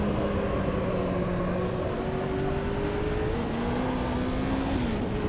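A turbocharged Nissan race car in the sim racing game Automobilista 2 holds a loud, steady engine drone that climbs in pitch as it accelerates under turbo boost, with a thin high whine rising above it, no talk.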